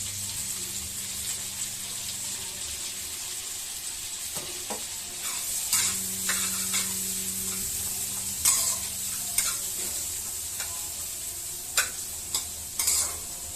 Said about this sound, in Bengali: আস্তে আস্তে পেঁয়াজটা ভাজা হয়ে যাক